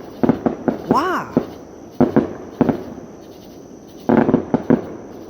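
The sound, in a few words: fireworks exploding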